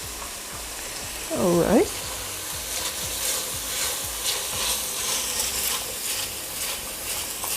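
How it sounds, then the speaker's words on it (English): Ingredients for lasagna sauté in a hot pan with a steady, close sizzle throughout. Near the start a utensil briefly scrapes and stirs, and a voice speaks a few words. "I think that is sauteed enough"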